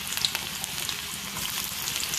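Garlic frying in hot oil in a pan, a steady close sizzle and crackle that continues without pause.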